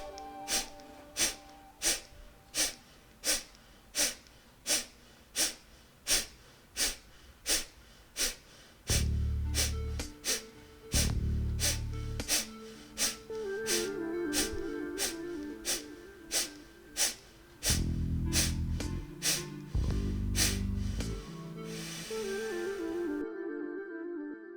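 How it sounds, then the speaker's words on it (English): Forceful nasal exhalations from yoga breathing practice repeat in a quick, even rhythm of short sharp puffs, with low tones sounding intermittently beneath them. "Second round, take an inhale again and start exhaling."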